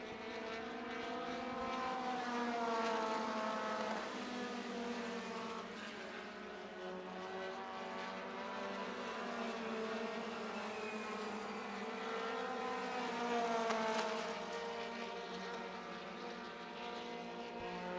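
Pavement midget race cars run qualifying laps at Indianapolis Raceway Park, their high-pitched engines forming a steady, loud drone that swells and fades as the cars pass, continuous throughout with no talk.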